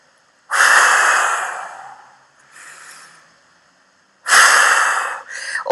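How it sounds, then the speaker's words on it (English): Forceful power breaths from the diaphragm during a breathing demonstration: two long loud breathy exhalations with a softer breath between and a short final puff, close and without talk. "So the second way of breathing is the power breath"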